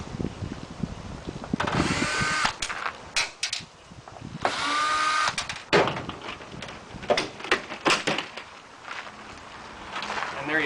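A power drill backs screws out of a Fresnel lens frame, giving bursts of whirring with clicks and rattles between them, close by and fairly loud.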